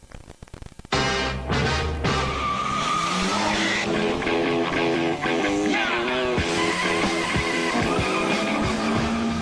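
Street-racing cars on a dead-end stretch of Vandalia in St. Paul on a Friday night, with loud sustained engine roar and tire squeal that fill the scene after a brief rough start.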